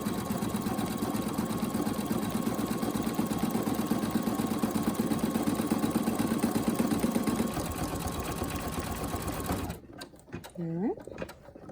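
An embroidery machine stitches a key fob in the hoop with a fast, steady mechanical whir and rapid needle rhythm at close range, then stops abruptly near the end, leaving a brief quiet tail.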